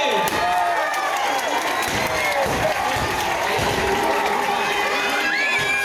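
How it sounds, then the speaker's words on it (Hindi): Loud cheering and applause from a crowd of schoolchildren and audience at a celebration for CM Rise Vinoba school in Ratlam, steady and dense throughout, with shouts and voices mixed in. "जोरदार तालियां"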